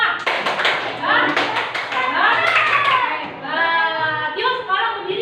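Schoolchildren in an elementary classroom clap a quick rhythmic cheer, a short burst of sharp, close claps, followed by children's voices and talk.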